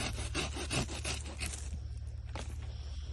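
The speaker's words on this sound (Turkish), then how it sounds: "Öncelikle ağacımızı kesiyoruz arkadaşlar." A hand saw rasps back and forth through a cherry tree branch in steady, quick strokes, close and fairly quiet, then slows and stops.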